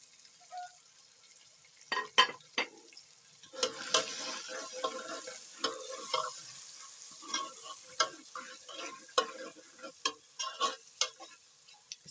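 Fish curry masala of salt, chilli and turmeric is stirred in a pan. It sizzles softly while a spoon scrapes and clicks in irregular bursts, close but fairly quiet, with no talk.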